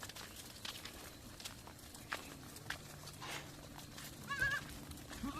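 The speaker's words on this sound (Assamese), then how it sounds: "কিন্তু 45+ ছাগলী আছে।" Goats in a shed holding more than forty-five animals, heard faintly through low barn murmur with a couple of soft, wavering bleats near the end and occasional shuffling movement.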